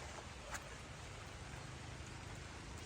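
Steady rain falls in a dense, even hiss with no pauses, close by and fairly loud throughout.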